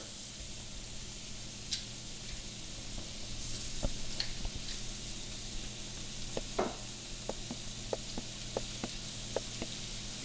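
Shrimp sizzle steadily on a hot Himalayan salt cooking brick, a quiet continuous hiss dotted with small pops and light scraping clicks.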